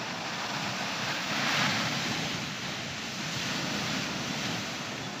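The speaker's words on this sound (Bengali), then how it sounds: "বড় ঢেউ আছে দেখুন।" Big ocean waves roll onto Digha beach, a loud continuous roar of surf that swells once midway, mixed with wind buffeting the microphone and no speech.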